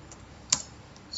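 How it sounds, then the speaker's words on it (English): Quiet computer keyboard keystrokes while a password is entered: a few faint taps and one sharper, louder key click near the middle, close by in a quiet room. "I'm typing the password."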